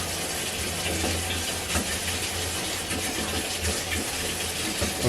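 Water drains down a clogged sink drain, giving a steady, fairly loud rushing and gurgling wash that continues without a break, heard up close.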